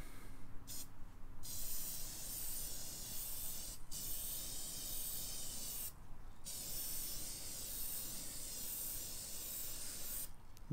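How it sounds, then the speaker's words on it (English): A clear low-odor fixative sprays from an aerosol can onto oil pastel paintings, hissing steadily in long bursts, broken by a few short pauses, close by and fairly constant in loudness. "see what happens when I spray this on it"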